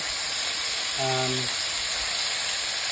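Thick boneless pork chops sizzle in a pan for an apple dinner from Normandy, giving a steady, loud frying hiss throughout with a brief tonal hum partway through.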